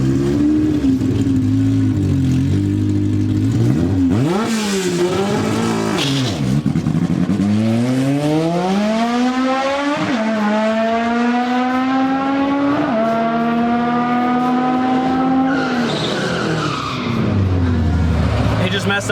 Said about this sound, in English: We really need him to be able to keep that RPM up on the way out, so we might have to shock it and get some wheel speed in there.